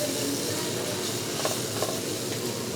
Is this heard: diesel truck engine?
no